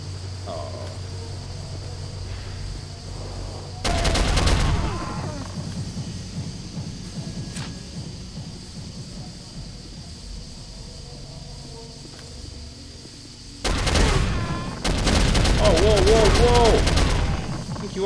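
Loud bursts of automatic gunfire in the shooter game Soldier of Fortune, one volley early and two longer ones near the end, with a quieter background hum and someone talking between shots.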